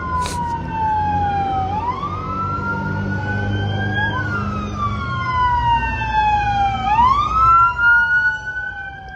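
Wailing sirens of ambulances escorting a funeral procession in Mexico, rising and falling in long sweeps with a second siren overlapping, steady and fairly close over a low rumble of engines and traffic.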